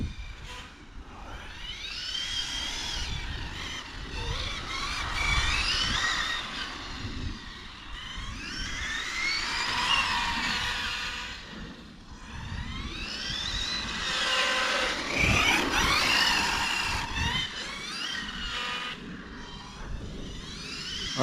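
Hobbytech RR21 radio-controlled car on a 4S pack driving with repeated throttle bursts and braking, a high whining motor that rises and falls in several surges over a constant background hiss.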